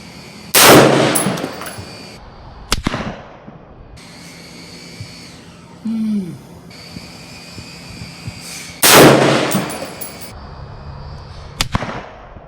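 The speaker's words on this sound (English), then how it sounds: "All right, I got 2 more shots." Two loud, sharp LFA LR precision rifle shots fired outdoors on a windy range, each a sudden blast with a ringing tail, spaced several seconds apart with quiet between them, plus a fainter crack near the end.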